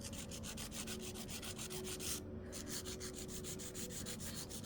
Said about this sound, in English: I will proceed with my normal filing techniques